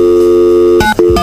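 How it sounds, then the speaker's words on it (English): A telephone sounds loud and close, a steady dial tone broken by a few short keypad beeps, with no talking. "Write it down for me and I'll dial it."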